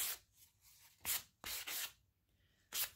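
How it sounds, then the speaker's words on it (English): Rough sanding strokes scrape around the edges of wooden sign letters in short bursts, four or five close, distinct rasps separated by quiet pauses. "I take my sander. I first go around the edges of the letter"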